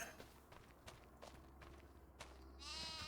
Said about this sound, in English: Let's check on our sheep.